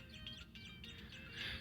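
Repeated bird chirps and tweets in the video game Catbird, several short calls over a steady low game-music bed, fairly faint.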